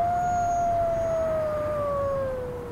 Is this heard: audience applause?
no